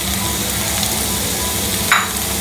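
Minced pork frying in a hot pan for pork sisig gives a steady, close, crackling sizzle that runs throughout, with one brief brighter spatter near the end and no talking.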